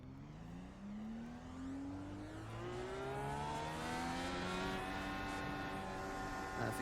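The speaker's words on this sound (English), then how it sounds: "I'm going to start rolling and doing our 100 mile an hour pace here to the backstretch" An IndyCar engine in the iRacing sim rolls at a steady 100 mph pace on the Indianapolis oval, a loud continuous whine whose harmonics climb gradually as revs build, with no talking.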